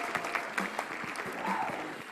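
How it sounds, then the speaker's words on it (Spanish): A small audience applauds to welcome guests arriving at a school gathering, a soft, steady patter of hands that stays faint throughout. "Recibámoslos con un fuerte aplauso."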